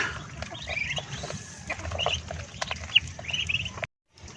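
Chickens and ducks cluck and chatter softly while feeding on a farm, with scattered pecking and rustling taps, then the sound cuts off abruptly.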